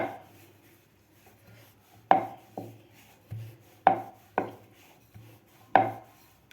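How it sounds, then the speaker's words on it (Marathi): A wooden rolling pin works sabudana paratha dough dusted with barnyard millet flour on a board, giving about seven irregular, hollow knocks and thumps, close and fairly quiet, with no talking. "भगरीचं पीठ घेतलेलं आहे मी ते लावून आपल्याला हे लाटून घ्यायचं आहे व्यवस्थित आपल्याला लाटायचं आहे"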